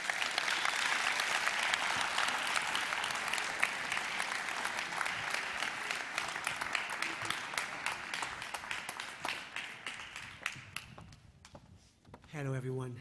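A large festival audience at a documentary film awards ceremony applauds musical performers with sustained, dense clapping that gradually thins out, ending in scattered claps before a voice starts to speak.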